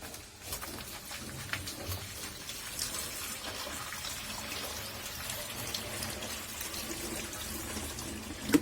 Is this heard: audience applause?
no